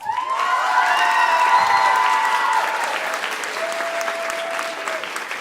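A large audience at the Slovenska nota 2017 finale applauds loudly to pick a winner, the sustained clapping mixed with cheers and whoops, and a voice sings over the crowd.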